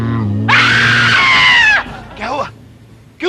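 A woman screams loudly in a single high, strained cry lasting just over a second, cutting in over a low voice and fading into shorter, quieter wavering cries.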